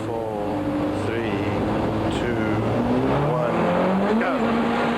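A Volkswagen rally car races hard around a tight one-kilometre stage, recorded from inside the car in 1993, its engine note continuously loud and rising and falling through gear changes, with brief squeals in between.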